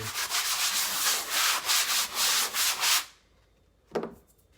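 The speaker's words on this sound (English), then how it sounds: "just give it a light sanding" Close, rhythmic scraping strokes of lightly sanding drywall compound on a wall patch repeat for about three seconds, then stop, followed by one brief brushing sweep.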